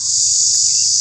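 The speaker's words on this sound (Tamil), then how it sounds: "வண்டோட சத்தம் கேட்குதாங்க, அப்படியே ரீங்காரம் போட்டுக்கிட்டே இருக்குது." A loud, steady high-pitched insect drone fills the air at a temple dedicated to Pechi Amman, an unbroken ringing whine with no voices.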